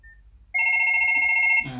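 Ringback tone of an outgoing phone call placed through a Twilio and Salesforce setup, a short faint beep followed by a steady two-tone ring lasting about a second, cut off by a click as the line connects.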